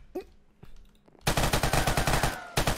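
Sharp, rapid automatic gunfire in Minecraft bursts out after a few quiet clicks, a continuous rattling stream of shots with synthetic, game-like punch.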